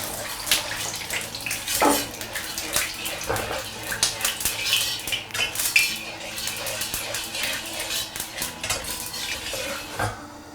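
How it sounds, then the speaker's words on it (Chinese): Oil is swirled around a hot wok to season it and then poured out, with loud metallic scraping, clinks of a ladle against the pan and sloshing liquid sounds running close and busy for ten seconds. "锅烧了之后，我们来点油，把锅润一下"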